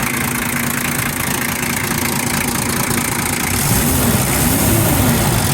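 A restored 1988 Toyota Land Cruiser 60 Series engine idles steadily and loudly up close, with a low rumbling drone and a faint rising whir near the end as the fan engages.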